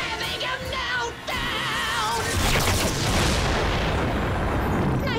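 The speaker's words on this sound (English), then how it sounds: "Beast X Cannon, ready!" The Beast X Cannon fires in a Power Rangers Beast Morphers battle, a dense roaring energy blast with booming rumble that swells and holds for several seconds, mixed with a soundtrack and sound effects.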